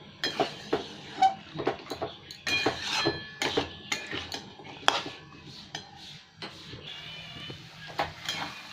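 Luchi dough being rolled out with a rolling pin in a home kitchen, a series of close, irregular wooden knocks and clinks as the pin hits the board, with no talking.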